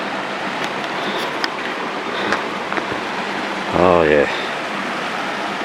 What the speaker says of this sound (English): Hear the water. That's a long way down now.